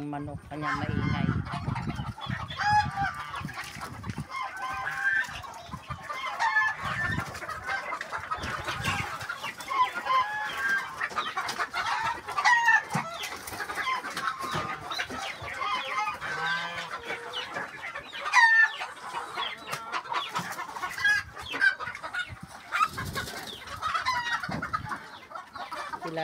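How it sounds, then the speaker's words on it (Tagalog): Chickens on a farm clucking noisily and continuously, several birds close by with occasional louder squawks, while a person talks now and then underneath. "Kala nila manguhuli na naman ako ng manok, kanya maingay."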